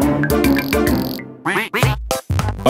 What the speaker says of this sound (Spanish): Hola, pato.